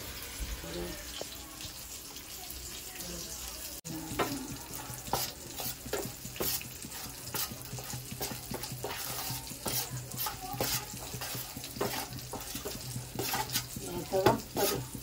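Hot water is stirred into flour for bhakri dough, giving close, repeated scraping and splashing strokes in an uneven rhythm, mixed with a low sizzle from a pan in the background.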